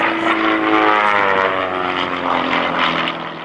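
Propeller warbird at an airshow in Monroe, rolling and pulling vertical during aerobatics, its engine drone loud and continuous, swelling and shifting in pitch, then easing off at the end.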